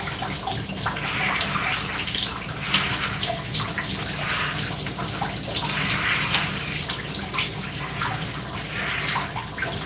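Water runs steadily from a tap or shower over hair during a wash, a continuous splashing hiss with faint drips and small shifts in flow, close and unbroken throughout.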